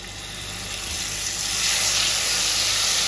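Spice paste with cinnamon sizzles steadily in hot oil, a dense, close frying hiss that swells slightly and holds without pause.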